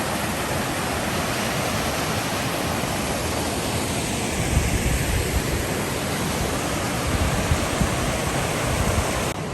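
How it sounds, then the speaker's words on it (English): Waterfall in Grampians National Park, a steady broadband rush of falling water that stays loud and unbroken, with a slightly heavier low surge midway. "But got some waterfalls over here."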